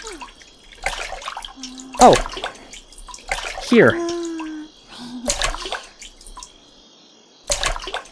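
Bathwater splashing and sloshing in a tub in the VR game Viva Project, several distinct bursts of splashing and dripping separated by quieter gaps, with a voice speaking briefly in between.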